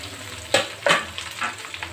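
Young papaya leaves being stir-fried in a pan, a soft sizzle broken by several scraping stirs of the spatula, close and fairly quiet, with no talk.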